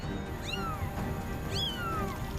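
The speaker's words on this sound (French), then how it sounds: "Un second chaton s'approche du bateau." A small kitten, just pulled from the water, gives two thin, rising-and-falling meows near a boat over a steady background hum.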